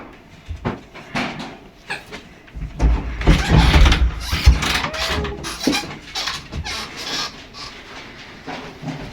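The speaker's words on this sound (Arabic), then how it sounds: "لا يا ماما هذا الباب خبط" A door bangs inside a home, with a loud knock-like thud and rattling clatter building around the middle, among scattered clunks and shuffling household noises.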